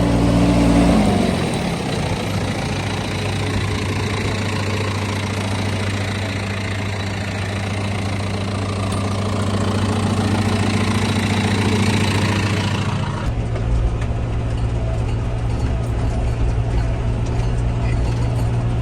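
A steady, low diesel tractor engine idles continuously, with a slight shift in tone partway through.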